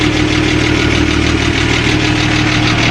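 A cold engine in a 1948 Chevy or 1938 Buick idles loudly and close by, a steady low rumble with a faint, rapid rhythmic tick running beneath it.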